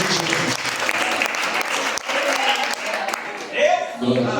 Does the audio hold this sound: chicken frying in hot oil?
no